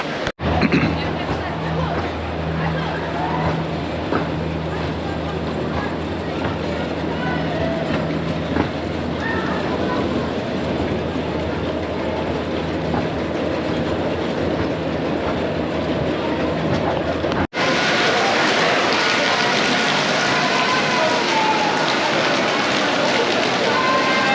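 Rattling, clattering carriages of the Big Dipper wooden roller coaster at Blackpool Pleasure Beach roll along the track with steady mechanical rumble and a crowd's babble, then the noise shifts abruptly to a louder roar.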